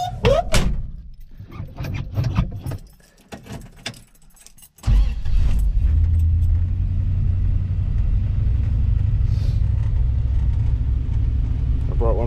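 Early 1960s Chrysler car, a 1962 Valiant or 1964 Fury, idling as it warms up: rustling and door sounds, then a steady low engine rumble that starts abruptly and holds evenly, close by.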